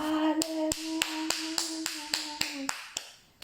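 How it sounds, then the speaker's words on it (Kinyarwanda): A church congregation claps for Jesus in an even, regular beat of sharp claps, about three per second, over a sustained tone that fades away partway through. "Hadukomere Yesu amashyi"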